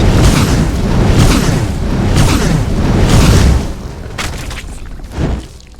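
Necrotic fire spell exploding in modded Skyrim: loud, sustained rumbling booms roll on for several seconds, then fade into a softer whooshing tail with a final burst.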